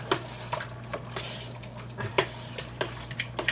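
Lasagna sauce being stirred in a pan over medium heat, a utensil scraping and clinking against the metal in short irregular strokes, close up and fairly quiet over a steady low hum.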